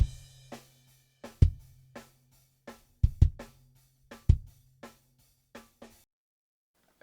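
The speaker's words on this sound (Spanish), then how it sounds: "Y ya junto los 3 micros suenan así." Drum kit captured with three microphones blended together, playing a short beat of punchy kick drum hits, crisp snare strikes and bright cymbal wash, close and loud, ending in silence.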